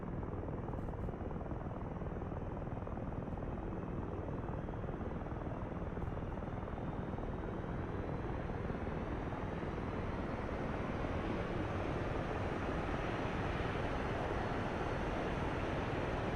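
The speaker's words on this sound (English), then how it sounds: "I'll start the right engine now." An Su-25T jet engine spools up in a flight simulator game, a steady, even turbine whine and roar that builds slightly louder over the run, alone with no talking.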